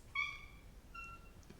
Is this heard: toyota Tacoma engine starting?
no